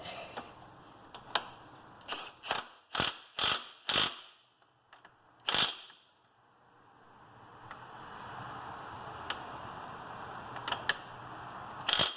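A hand ratchet clicks in quick bursts while tightening a nut on a Yamaha Grizzly 700 ATV front axle, several short loud strokes followed by quieter, sparser clicks over a faint background hiss.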